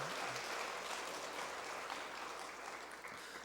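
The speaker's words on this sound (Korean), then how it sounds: "우리 엄마 아빠 위해서도 격려의 박수 한번." A church congregation claps steadily in a dense, even patter at a Sunday service, heard faintly and easing off slightly toward the end.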